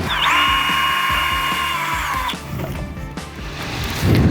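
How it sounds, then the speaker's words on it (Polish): A power drill drives self-tapping sheet-metal screws into a steel beam adapter on a screw-in post base, a loud close whine for about two seconds that stops abruptly, followed by clattering handling noises. "Belkę z adapterem łączymy blachowkrętami."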